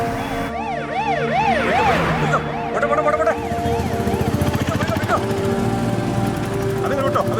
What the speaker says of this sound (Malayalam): ചേട്ടാ ആംബുലൻസ് ഉണ്ട്, നമുക്ക് അതിന്റെ ബാക്കിൽ വിടാം.